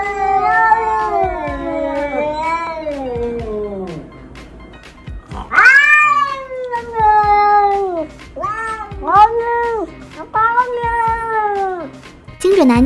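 A cat meows repeatedly, loud and close, with long drawn-out, rising and falling meows and then a quicker series of shorter calls, while people talk over it.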